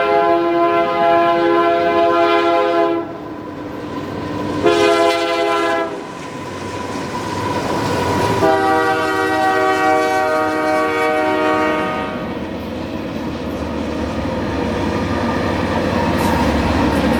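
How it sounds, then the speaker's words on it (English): Freight trains pass steadily at Barstow, California, with loud, continuous rumbling, wheel clatter and long blasts of a horn sounding through the middle of the passage. "watching freight trains. Lots and lots and lots of freight trains."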